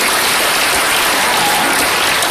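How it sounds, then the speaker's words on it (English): Dense, sustained applause from an audience at an entrepreneurs' sharing session, a steady wash of many clapping hands that fills the whole moment with no voices over it. "Let's give them a round of applause."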